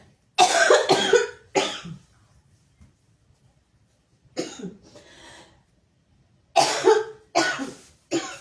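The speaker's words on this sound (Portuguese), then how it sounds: "Eu vou tossir bastante." A person coughs hard in several close bursts, grouped in clusters of two or three with quiet pauses between them.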